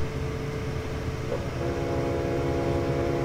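An American freight train rolls past in Train Simulator 2015, a steady, loud rumble of wheels and cars filling the whole stretch with a brief horn-like tone rising partway through.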